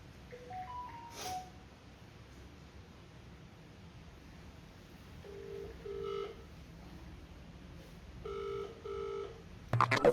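A phone call goes out with a ringback tone after dialing, a few short electronic tone bursts sounding quietly and evenly spaced against low hiss, ending in a brief louder crackle.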